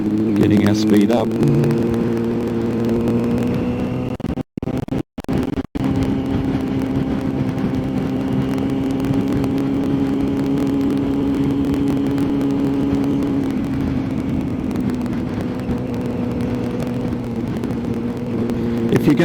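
A car accelerating on a road during a driving lesson, its engine hum rising steadily and staying close and continuous beneath an instructor's talking, with a few brief dropouts.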